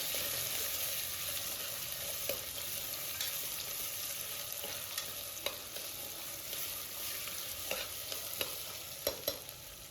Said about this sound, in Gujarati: અને એકદમ હળવા હાથે બધું વેજીટેબલ તેલમાં સાંતળી લેશું.